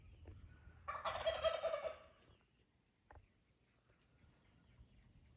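Young male wild turkeys gather near a Texas Hunter feeder, and one jake lets out a single rattling gobble, followed by a brief faint call and quiet outdoor background.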